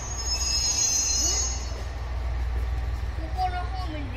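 Electric train pulling into a platform at Yonago Station in the evening, its wheels letting out a sustained high metallic squeal over a steady low rumble, a few thin screeches rising near the end.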